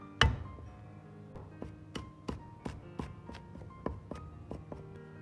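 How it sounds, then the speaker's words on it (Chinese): Garlic cloves struck with a knife on a cutting board, one sharp heavy thump followed by a series of lighter taps and knocks, close and fairly quiet, without speech. "大蒜3颗，先拍破"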